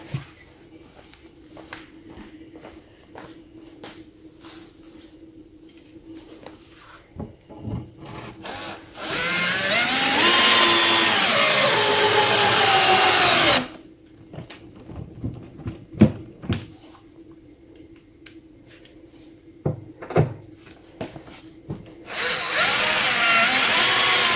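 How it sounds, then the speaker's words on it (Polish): A power drill drives screws into a birch wooden bed frame with a storage box, in two loud sustained bursts of whirring, separated by knocks, clunks and handling of wood and parts. "Przykręcam jeszcze z drugiej strony."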